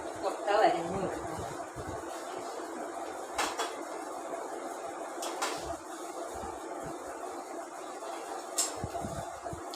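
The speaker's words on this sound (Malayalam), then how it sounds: "നല്ലവണ്ണം ഇളക്കി എണ്ണ തെളിയുന്നത് വരെ മൂപ്പിച്ചുകൊണ്ടിരിക്കണം." Egg curry masala frying in ghee and oil while a spoon stirs it in a pan, with a few distinct metallic clanks and scrapes over a quiet background, a voice speaking at times.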